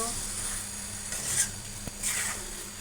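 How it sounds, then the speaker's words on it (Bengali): Vegetables frying with spices in a pan as they are stirred, a soft steady sizzle with a couple of brief utensil knocks, fairly quiet and close. "এখন সবজিগুলো মশলা দিয়ে কষিয়ে নেব ভালোভাবে নাড়াচড়া করব"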